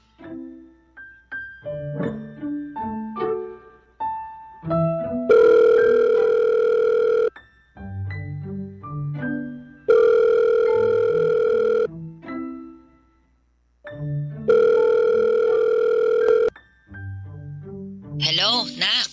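A cellphone call rings out: a burst of melodic dial-tone beeps, then three long, loud electronic ringback tones with short gaps between them.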